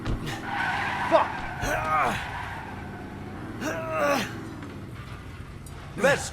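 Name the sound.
car skidding in video game Resident Evil 7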